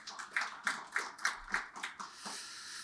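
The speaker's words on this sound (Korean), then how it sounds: "박수 부탁드리겠습니다" Applause from a conference audience at a Korean Hanwoo cattle industry forum, a run of about seven loud, evenly spaced claps from a nearby group that settles into a softer, steady clapping wash.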